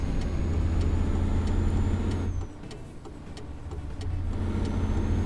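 A Mercedes-Benz Actros MP3 truck in Euro Truck Simulator 2 rumbles with a steady low engine note, dipping briefly as it eases off through a turn before pulling again, with light clicks throughout.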